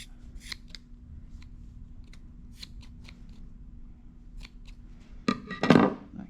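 Scissors trim the ends of a graduation tassel for a keyring: a few faint, scattered snips, then a louder, closer crunching cut near the end.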